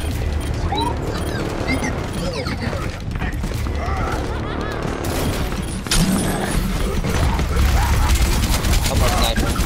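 Rapid automatic turret fire in the shooter game Overwatch rattles in sustained bursts amid in-game explosions and crashes, with people talking over the loud, continuous barrage.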